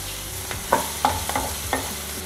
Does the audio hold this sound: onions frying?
yes